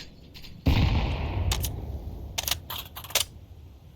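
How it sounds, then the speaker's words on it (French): A grenade explodes in Counter-Strike with a sudden loud blast and a rumbling decay. Several sharp gunshots and clicks follow over the next few seconds. "Grenade."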